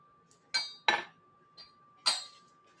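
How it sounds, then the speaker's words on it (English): Glassware clinks several times as a glass is picked up and handled during a cocktail-making demonstration, with sharp, close, bright knocks spaced irregularly over a couple of seconds, no talking. "So let me get my glass."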